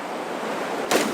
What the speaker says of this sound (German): Ganz schöne Strömung hier.